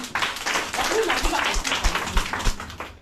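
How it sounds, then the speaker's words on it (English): Audience clapping for a young grade 1 pupil at a community school in Kibera, brief scattered claps under talking voices. "Clap for Randy"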